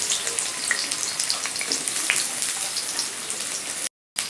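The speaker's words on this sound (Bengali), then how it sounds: "আমি দিয়ে দেবো পেঁয়াজটা পেঁয়াজটা ভাজা হোক" Onions frying in a pan while tomatoes are prepared for tomato posto, a continuous crackling sizzle with small popping spatters, close and alone, stopping briefly near the end.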